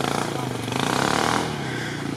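A small single-cylinder engine on an off-road vehicle revs hard at an off-road rally in Ukraine, a throbbing, pulsing drone that rises to a peak and then eases back, loud and close.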